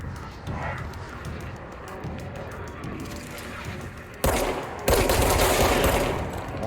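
Rapid gunfire rattles through a firefight in the video game Control, with bursts of shots, a sharp louder volley near the end, and dense crackling impacts.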